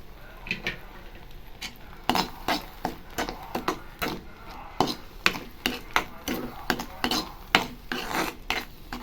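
Date halwa being stirred with ghee in a pan, a spoon scraping the pan bottom in quick rasping strokes about twice a second, close and fairly loud, with no voices.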